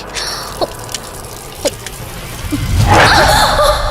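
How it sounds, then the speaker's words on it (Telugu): A kitchen tap under repair that won't shut off: a few separate drips land one by one, then a louder, steady rush of running water swells up and continues to the end. "మధు, నువ్వెంత కట్టినా ట్యాప్ ఆగదమ్మా. అది రిపేర్లో ఉంది."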